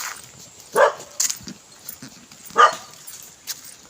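A young dog gives a few scattered, thin barks and yelps with soft whimpering in between, spaced out over a quiet background.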